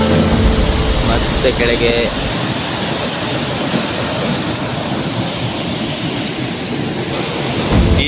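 Burade Falls waterfall rushing down, a steady broadband roar of falling water that stays loud and continuous throughout, with a person talking over it.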